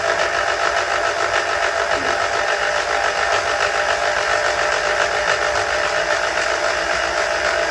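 A motor drives a freshly rebuilt gearbox filled with new gear oil, giving a loud, steady mechanical whirr and hum that runs without a break from start to finish, close to the listener.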